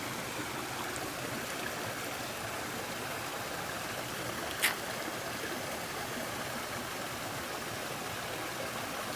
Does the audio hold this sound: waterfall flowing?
yes